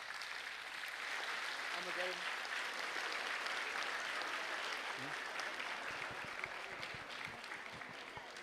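Applause from the crowd at an official 30th Independence Day ceremony in a capital courtyard: a sustained, even patter of many hands that fades a little near the end, with faint voices underneath.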